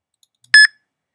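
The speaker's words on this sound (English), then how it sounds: "The visitor will get an auditory and visual prompt of when to speak with a beep" An electronic doorman intercom sounds a single short, clean beep prompting a visitor to speak, loud and close after a brief near-silence.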